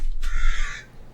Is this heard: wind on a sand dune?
no